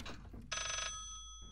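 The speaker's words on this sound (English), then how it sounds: "There's a phone still." In the Layers of Fear video game, an old telephone bell gives a single short, bright ring that quickly fades, following a few soft knocks and surrounded by quiet.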